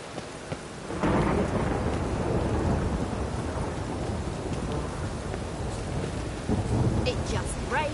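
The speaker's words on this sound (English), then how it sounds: "It just rains and rains." Heavy rain pours steadily in The Witcher video game while deep thunder rolls underneath, loud and continuous, with a brief lull at the start before the downpour swells.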